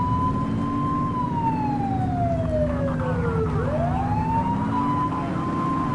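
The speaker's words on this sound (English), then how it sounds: "Turn that siren off." A police car siren in the video game The Precinct wails steadily, its pitch sweeping slowly down then back up over a low engine rumble, loud and close throughout.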